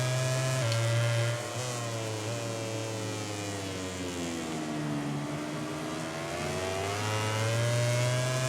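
Aprilia racing motorcycle engine in MotoGP 18, screaming at high revs down a long straight toward the finish line, a loud sustained whine that dips and climbs in pitch through gear changes, heard alone without voices.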